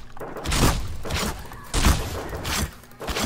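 Rapid gunfire in the zombie shooter Brain Bread 2, with broadband bursts of shots and thuds repeating in quick volleys, loud and close throughout.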